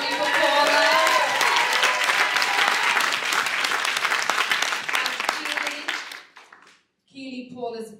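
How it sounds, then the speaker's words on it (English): Loud applause from a dance show audience at Strictly St. Joseph's, cheering for Paula's performance and filling the hall for about six seconds. It then fades out, and a voice starts talking after a brief pause. "give a round of applause, everybody, for Paula"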